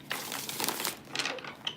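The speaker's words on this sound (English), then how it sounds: "I'm going to finish shuffling." A tarot card deck is shuffled by hand, giving a close, busy run of papery riffling and soft slaps of cards in quick, uneven bursts, with no talking.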